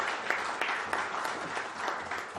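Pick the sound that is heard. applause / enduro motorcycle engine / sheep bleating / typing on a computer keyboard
applause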